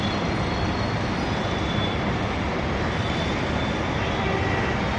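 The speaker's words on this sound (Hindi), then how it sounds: "देखिए यहाँ से मेट्रो चलती है।" Steady, loud rumble of a metro train running along an elevated bridge track, heard from about fifteen storeys up, a continuous broadband roar with faint wheel squeal, no voices.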